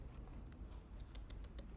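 Rapid typing on a computer keyboard, steady close clicks of keys at a brisk rhythm over a low background hum.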